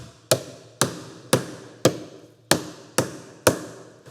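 Seven sharp, evenly spaced mallet strikes on a chisel as the corners of a timber mortise are taken down and flattened, each crisp knock ringing briefly before the next, close and clear with no talking.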